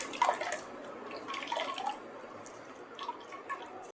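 Freshly ground coconut milk drips and trickles through a filter into a container, a steady close patter of liquid drops with a few brief splashes.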